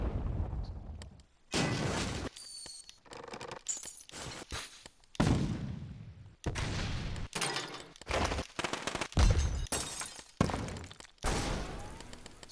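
A destruction sound effect in the video game LittleBigPlanet 3 plays as a series of loud, abrupt crashing and shattering bursts, separated by short silences and repeated many times.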